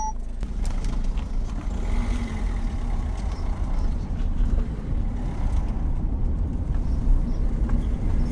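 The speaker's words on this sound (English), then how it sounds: "it's nice to be able to drive a small car around these old villages" A small car drives through old villages on Hvar Island in Croatia, with a steady, fairly loud hum of engine and road noise from inside the car throughout.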